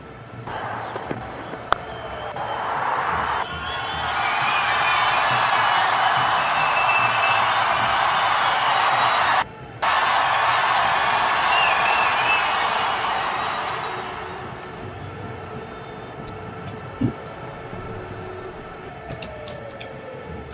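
Stadium crowd roars for a six in an IPL cricket match between Chennai Super Kings and Kolkata Knight Riders, KKR fans cheering in a loud, sustained swell that breaks off briefly, resumes, then fades.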